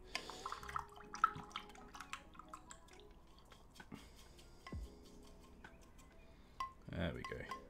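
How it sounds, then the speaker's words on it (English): A paint brush scrubbed in soapy water after painting a Warhammer miniature, making close wet swishes, drips and small clinks against the pot, with a voice talking faintly in places. "Washing it. It's getting quite soapy, this water now."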